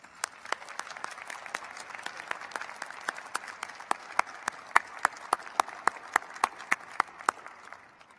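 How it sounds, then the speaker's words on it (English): An audience at a business college winter convocation applauds for Tom, steady moderately dense clapping with distinct individual claps standing out, carrying on for several seconds before tapering off. "Another round of applause for Tom"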